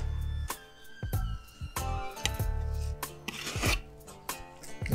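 A knife trims hard fat from a brisket in short rasping strokes, several separate scraping cuts at close range, fairly quiet against near silence.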